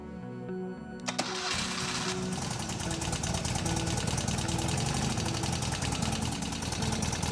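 A BMW R60/7 motorcycle, just fitted with electronic ignition, fires up and settles into an even, rapid idle, faint and steady with no talk over it.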